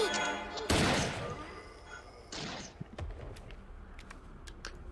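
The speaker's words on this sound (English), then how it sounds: "I'm shooting a sniper rifle with one arm" A sniper rifle shot in Resident Evil Outbreak on PS2, one loud sharp blast followed by a decaying tail, then a second softer burst and scattered small clicks and thuds over game ambience.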